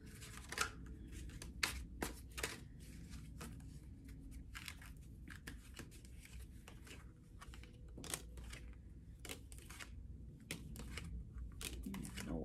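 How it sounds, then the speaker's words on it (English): Tarot cards being shuffled by hand: a steady papery riffle broken by repeated sharp slaps and snaps, close and moderately loud, with no talking. "A couple more shuffles, and then I'm going for the old-fashioned pull"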